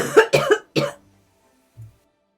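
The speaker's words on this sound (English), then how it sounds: "have to deal with a cough" A few harsh coughs come in a quick burst, then a pause and one short, soft throat sound at the end.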